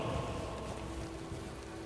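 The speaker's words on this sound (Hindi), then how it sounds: "कितनी अच्छी बारिश हो रही है ना परी?" Steady rain falls continuously, a dense even hiss of drops with a faint low tone running through it, moderately quiet and unbroken, with no voices.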